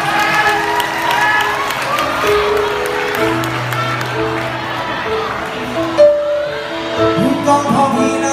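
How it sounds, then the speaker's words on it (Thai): A crowd claps and cheers for a venue owner at a Pattaya variety show, amid talking and shouting voices, with scattered claps and a lively, noisy room. "ปรบมือเจ้าของร้านนะครับ"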